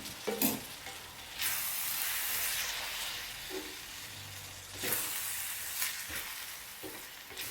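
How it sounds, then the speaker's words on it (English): Egg mixture sizzling in a pan of cooked beef for a taco frittata, a steady bright hiss broken by several louder scraping stirs and surges of frying, close and with no talk. "When the beef is cooked, I add in the egg mixture."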